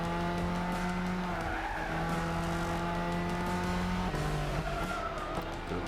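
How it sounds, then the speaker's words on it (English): A GT3 race car in Gran Turismo 6 on PS3 roars at full throttle, its engine note climbing and shifting while tires squeal and skid, loud and continuous throughout. "Let's use the power of acceleration and how many horsepower this car has"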